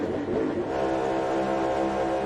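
A NASCAR stock car engine at the Atlanta track drones and revs steadily as the throttle is pedaled, a dense, continuous motor roar with no speech.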